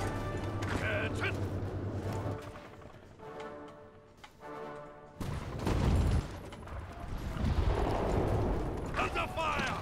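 Gunfire in the Hearts of Iron IV strategy game, bursts of shots and booming artillery-like blasts mixed with mechanical clanks, loud and layered, with a lull in the middle before heavier firing resumes.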